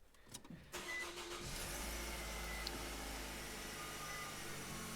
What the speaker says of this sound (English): now we should be able to start the vehicle as normal